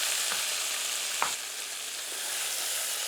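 Tomatoes hit onions frying in a pan for a chicken tikka masala curry, producing a continuous close sizzle with a couple of sharp stirring scrapes and clinks, no voices.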